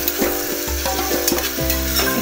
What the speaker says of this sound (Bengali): পেঁয়াজটা হালকা গোল্ডেন কালারে করে ভেজে নেব।